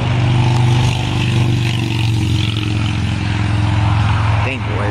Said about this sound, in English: Oh, motorcycle.